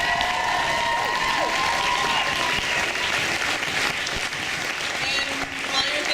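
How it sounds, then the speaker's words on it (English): At a Powershift Atlantic gathering, an audience gives a hearty round of applause, loud sustained clapping with scattered cheers and voices mixed through it. "can we please give her a huge round of applause for making this happen?"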